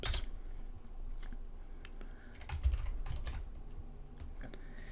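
Fingers tap out a quiet, irregular run of clicks on a computer keyboard, close and faint, with short pauses between bursts and no voices.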